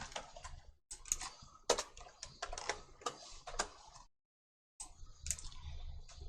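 Quick clattering keystrokes on a computer keyboard while renaming an app button in a coding lesson, close and crisp in irregular bursts, broken by a short silent pause before typing resumes.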